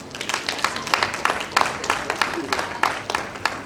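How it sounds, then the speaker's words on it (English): A university lecture audience gives a professor a round of applause, with many hands clapping in a dense, uneven patter that stays steady throughout, and some voices mixed in. "Please join me in giving a round of applause to Professor J.S."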